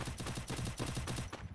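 Rapid automatic gunfire in the video game Free Fire Max: a dense, fast string of shots at about ten per second, fairly loud and unbroken, easing briefly near the end.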